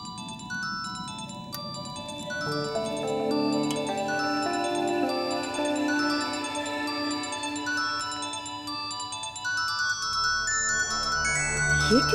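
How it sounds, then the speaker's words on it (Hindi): A phone rings with a melodic ringtone, a run of bright electronic tones repeating steadily and fairly loud, with no talk over it. "माँ और अर्जुन को फोन करके कहो कि घर में ठीक 5 बजे पहुंच जाए।"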